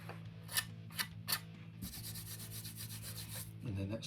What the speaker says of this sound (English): And then that sands off quite nicely.